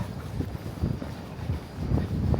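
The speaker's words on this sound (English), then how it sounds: "It's not cold, it's just windy." Wind blows outdoors along a city street, rumbling and buffeting against the microphone in uneven low gusts for the whole stretch, with no talk.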